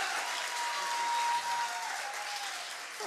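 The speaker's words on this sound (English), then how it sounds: "I think Cecil deserves a little better round of applause than" An audience at Nick Saban's coaching show applauds Cecil with a steady, fairly quiet wash of clapping from a crowd that continues evenly throughout.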